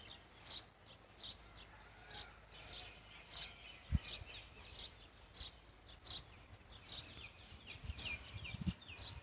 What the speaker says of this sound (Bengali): খুব সুন্দর পাখির কিচিমিচি শব্দ।